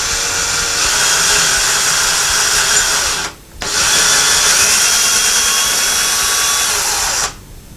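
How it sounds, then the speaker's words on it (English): Power drill slowly boring into drywall to mount a mailbox key holder, a loud whining motor run of about three seconds, a brief pause, then a second longer run before stopping. "we drill very slowly into that hole that you previously made"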